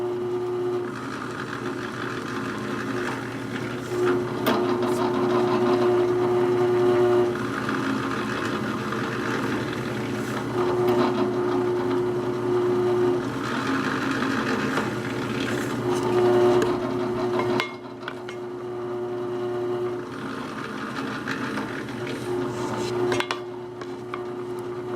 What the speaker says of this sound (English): So let's just drill 5 holes, it doesn't matter where